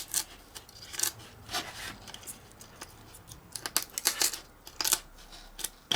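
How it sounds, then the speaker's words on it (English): Foam being peeled away from a model FW190 warbird's aileron wing section: a run of soft, scratchy tearing and rasping bursts, close and fairly quiet, rising in several clusters with short pauses between. "just peel that bit of foam off so you can see"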